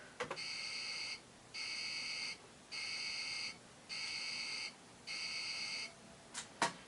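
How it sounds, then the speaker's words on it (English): An electronic navy alarm buzzer effect from a Commodore PET computer sounds in five steady, evenly spaced bursts, loud and alone, with a couple of sharp clicks at the start and end. "Navy alarm buzzer."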